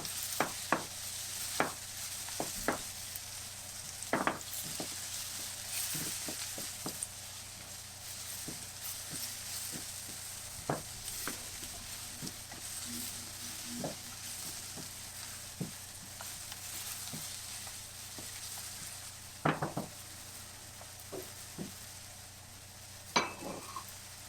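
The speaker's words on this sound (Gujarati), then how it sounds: "હવે આપણે મસાલાને મિશ્રણ સાથે શેકી દઈશું 1 મિનિટ સુધી." Masala with turmeric and salt roasting in a pan for eggplant and green pea sabji, a steady low sizzle broken by frequent sharp scrapes and taps of a spoon stirring against the pan, with no talk.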